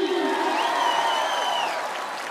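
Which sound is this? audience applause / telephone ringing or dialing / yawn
audience applause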